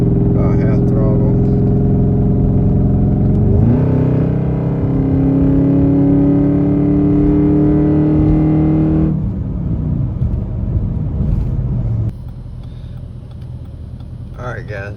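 Inside the cab of a 2013 Jeep Grand Cherokee with the 5.7 engine and a Cherry Bomb exhaust, a loud, deep exhaust note climbs in pitch under acceleration, then eases back into a lower steady drone.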